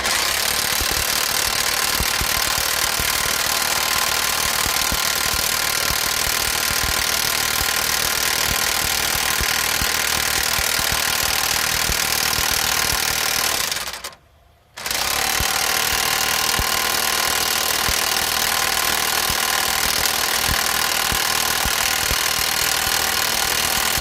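Power tool loosening a 22mm brake caliper bolt on a 2014 Nissan Altima, a loud continuous rattling hammer-like drone running almost the whole time with one brief cut-off midway.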